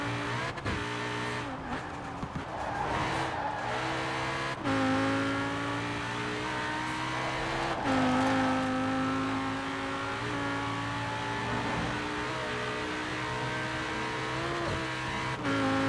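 An Audi RS 7 in Forza Horizon 4 drives hard, its engine holding steady harmonic notes that climb and drop with each gear change and throttle lift, loud and continuous with no talk.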